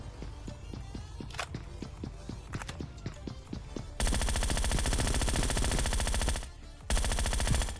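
Enemy footsteps in the Scarfall 2.0 shooter on the Mumbai map: a quick, even run of close footfalls for several seconds, then loud sustained automatic gunfire bursts take over, with a brief pause before firing resumes.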